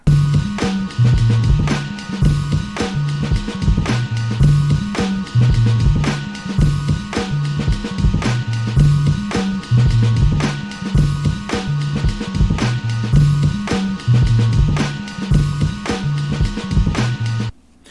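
A hip-hop beat with a punchy repeating drum loop, thumping bass and layered samples, playing steadily without any vocals.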